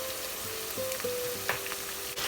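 Okra frying in hot oil for a crunchy fried dish, a steady close sizzle with a few soft stirring scrapes, heard alone without any voices.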